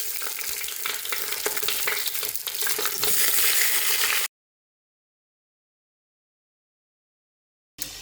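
Half a small chicken fries in oil in a pan, giving a dense, loud, steady sizzle for about four seconds before cutting to silence, then resuming briefly at the end.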